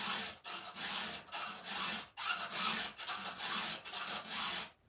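A hand file rasps against a chainsaw chain's teeth in about a dozen even back-and-forth strokes, close and fairly quiet, with no talk.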